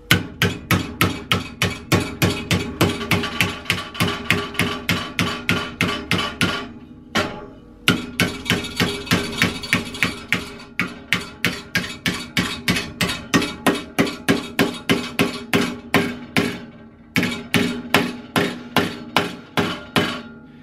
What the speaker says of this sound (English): Hear that harsh metallic sound picking up now? That's because we're making contact with the angle iron through the steel.